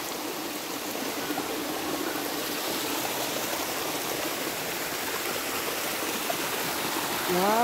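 Natural spring water flows without pause through a channel at a mountain resort with water terraces, a continuous, close rushing and gurgling wash that stays even throughout and grows a little louder at the end.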